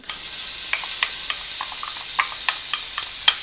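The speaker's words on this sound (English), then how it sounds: "So we start with the onions and a simple wooden spoon to stir them around." Onions sizzling over low-medium heat in a pan for tomato soup, a steady frying hiss with scattered soft clicks and scrapes as a wooden spoon stirs them, close and continuous with no talking.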